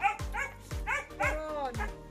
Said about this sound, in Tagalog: Ay, mga aso dyan.